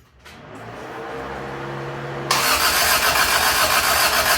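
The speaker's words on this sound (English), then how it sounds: "This is just cranking, oil pressure building first, then fill the bowls." A Toyota Tercel 3A-C engine, just reinstalled, cranks with a steady churning starter whir, then roars into a loud, continuous run close by.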